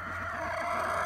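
A backyard hen clucks close by in a short burst, steady and moderately loud over a faint outdoor background.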